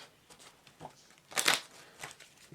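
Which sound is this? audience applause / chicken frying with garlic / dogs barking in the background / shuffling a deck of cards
shuffling a deck of cards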